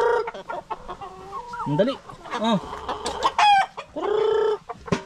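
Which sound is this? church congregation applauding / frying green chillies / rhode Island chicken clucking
rhode Island chicken clucking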